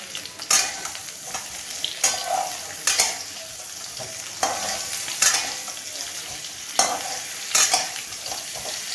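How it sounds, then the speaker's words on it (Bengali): Potatoes fry in a pan for a niramish aloo dum, a steady close sizzle broken by repeated sharp scrapes and clatters of a spatula stirring every second or so. "তো এই যে আমি এখন আলুগুলো দিয়ে এবার ভেজে নিচ্ছি।"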